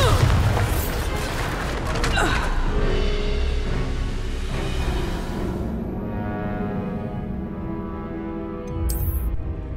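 A Bombarda spell detonates in the video game Hogwarts Legacy with a loud, heavy boom that rolls into a long, fading rumble, and a brief high swish near the end.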